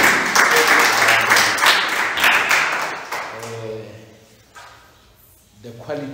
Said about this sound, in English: Let's give God the hands of applause.